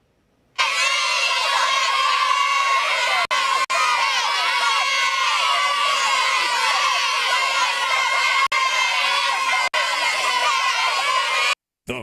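An Amory high school cheer squad performs at a Friday night football game while a large crowd screams and cheers loudly and continuously, with high youthful shouts, brief drops in between.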